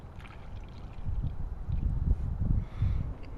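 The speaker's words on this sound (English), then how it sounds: "Fill it up and let all the air bubbles come out" Coolant gurgles and splashes as it is poured into a car radiator that recently had its hoses off, with air bubbles burping up; a steady low watery rush swells and pulses close by, no talk.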